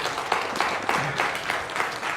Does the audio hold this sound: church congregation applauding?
yes